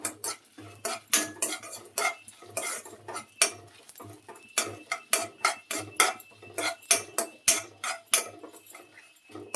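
Spices such as cumin and pepper stirred in a pan over a medium flame, with a spoon clinking and scraping against the metal in quick, steady, repeated strokes, close and fairly loud, with no talk.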